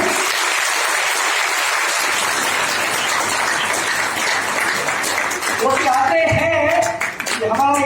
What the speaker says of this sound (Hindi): आज तहे दिल से उनके लिए एक बार तालियां बजा दो